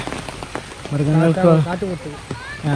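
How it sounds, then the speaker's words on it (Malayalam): Rain patters steadily at Trivandrum Zoo while someone talks loudly close by, his voice dominating over the hiss of falling rain. "നല്ല മഴ ഗൈസ്"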